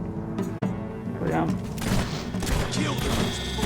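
Gunfire cracks and booms in the video game Fable 3 as a short burst of shots under ongoing game sound and a background voice, fairly loud and dense.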